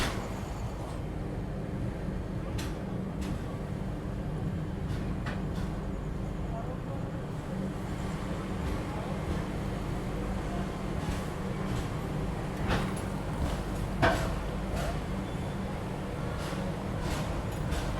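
Onboard a running Garib Rath express train, a constant low rumble of wheels on rails is heard with intermittent clicks and clunks of the track joints, steady throughout.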